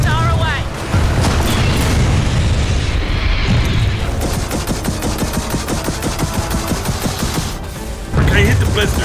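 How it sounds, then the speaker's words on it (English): Rockets launch and explode amid dense gunfire in the video game Gears of War 4, a loud continuous barrage of booms and rapid bursts close up, with a player's voice talking over the chaos. "Rockets are away."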